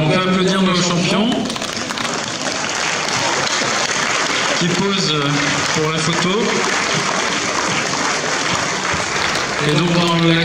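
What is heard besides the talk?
audience applauding chess champions at award ceremony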